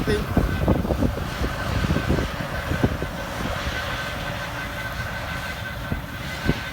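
A Claas Lexion 480 combine harvester rumbles steadily with rattling and clanking while harvesting barley in a field, strong wind noise over it.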